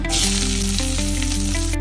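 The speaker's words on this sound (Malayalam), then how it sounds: "എണ്ണ ഒഴിച്ചു കൊടുക്കാം കടുക് പൊട്ടിക്കാം കറിവേപ്പില കൂടി ഇട്ട് കൊടുക്കാം" Mustard seeds and curry leaves crackle and sizzle in hot oil in a pan, a loud, steady frying hiss with dense popping close up, no talking.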